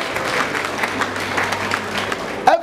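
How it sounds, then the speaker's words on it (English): Applause from a church congregation during a sermon, a steady wash of clapping at moderate level that runs for a couple of seconds, with a brief louder burst of nearby clapping at the end. "Give him a wonderful clap."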